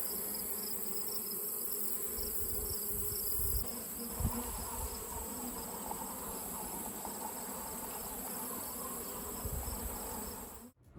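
A dense, steady buzz of many honey bees hums continuously, close by at an open hive frame, with no voices.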